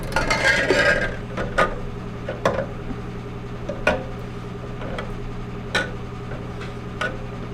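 Glass canning jars knock and clink as they are loaded into a pressure canner: a cluster of clatter at the start, then scattered sharp, close taps and ticks spaced a second or so apart.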